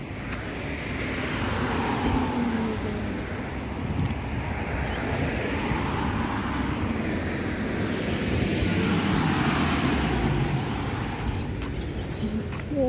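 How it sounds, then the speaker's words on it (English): Steady road traffic rumbles past a village street as cars and trucks go by, a continuous broadband wash with swells of passing vehicles and some wind buffeting on the microphone. "Traffic na dito."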